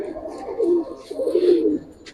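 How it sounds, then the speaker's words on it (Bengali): Giribaz and coloring pigeons coo in low, rolling phrases, two soft swells close by with little else around them. "অনেক সুন্দর কবুতর এই পটটা দেখা দেন"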